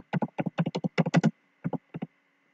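Close, quiet keystrokes on a computer keyboard come in a fast run of clicks, then a short pause and a few final taps.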